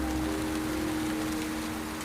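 Steady rain falls on a house building site during a roof lift, a continuous even hiss with a faint low hum underneath and no voices.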